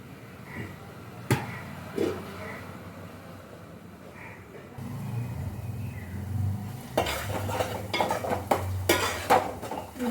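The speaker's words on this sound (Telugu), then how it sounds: "చేప ముక్కలు అయితే వేస్తున్నానండి." Fish pieces tumbling into a pot for Telugu-style fish curry (chepala pulusu) over cooked onions, with clinks of a utensil against the pot, a scraping stir, and a sizzling, bubbling bed of sound building in the second half.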